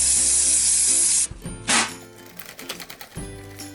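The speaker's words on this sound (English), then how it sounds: "hairspray. All right, here we go." Hairspray sprayed over drag queen face makeup to lock glitter in place: one loud, close, continuous hiss lasting about a second, followed by quiet rustling and handling noises.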